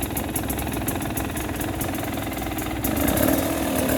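A 2020 KTM 300 XC TPI two-stroke dirt bike idles steadily and loudly up close, a continuous buzzing engine drone that swells slightly near the end.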